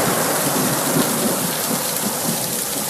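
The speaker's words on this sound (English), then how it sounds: "it's raining cats and dogs out here" A heavy outdoor downpour roars steadily, thick rain hitting the surfaces close by, with rumbling thunder rolling underneath; no voices are heard.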